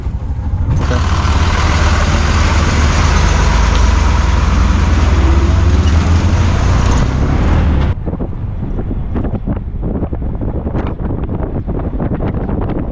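A bus engine runs steadily while travelling along a village road near Sangameshwar, a loud continuous rumble with wind buffeting the microphone that drops to a lighter rattling road noise toward the end.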